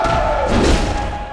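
A visceral attack in Bloodborne lands as a single heavy, close thud over a dense, loud layer of game noise.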